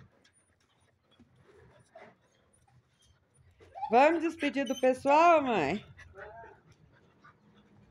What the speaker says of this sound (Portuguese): os cachorros estão felizes aqui em volta